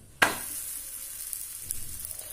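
Paneer paratha laid onto a hot, oiled tawa sets off a sudden loud hiss that settles into a softer, steady sizzle, with a small flare near the end and no voices.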